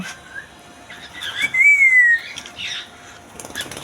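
Cockatiel chicks squawk and whistle in short, shrill bursts, one longer piping call standing out, close by with little else around.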